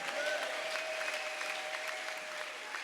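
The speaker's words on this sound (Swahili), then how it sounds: "Ashangiliwe Bwana kwa makofi." A church congregation applauds together, a steady wash of many hands clapping at a moderate distance, continuous and even without pause.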